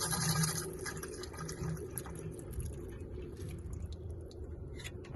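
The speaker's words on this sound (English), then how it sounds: "we want to lift this valve to relieve some pressure from the water" Water hisses and gurgles out of the pressure relief valve on a Truma AquaGo water heater in a Ram Promaster van, a faint steady rushing flow with light dripping, heard close and alone.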